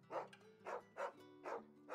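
A dog barking in Final Fantasy XVI, five evenly spaced, moderately loud barks over a low background hum, with no talking.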